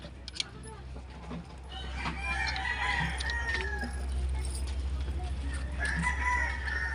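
Chickens cluck and a rooster crows nearby in a coop, over a low steady hum, with people talking and a metallic jangle among the birds.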